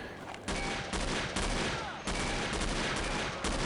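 Dense, rapid gunshots from No One Lives Forever rattle without pause, loud and close, with slight surges as new volleys begin.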